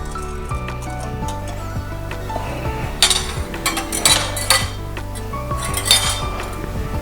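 Flour and baking soda mixed together in a bowl for mango bars, giving a few sharp clinks and scrapes of utensil on bowl around the middle and end, over a steady low background hum.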